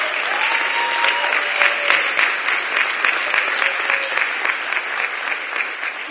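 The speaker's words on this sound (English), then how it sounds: "Let's give the mayor a big round of applause." Audience applause for the mayor at the affordable housing opening of the Beacon Center, a dense sustained clapping from a crowd that holds steady and near throughout.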